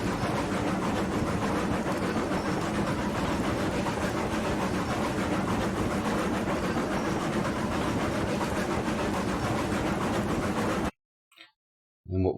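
A Class 70 locomotive in RailRoads Online hauls a long string of 27 cars up an incline, a loud, steady rumble with rhythmic wheel clatter that runs continuously for about eleven seconds before cutting out abruptly.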